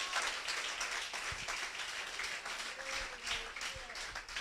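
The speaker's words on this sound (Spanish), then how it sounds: "Dele un aplauso al Señor Jesucristo en esta mañana" Applause from a Spanish-speaking church congregation during a Sunday morning sermon, moderately loud clapping that swells and fades, with voices and shouts mixed in.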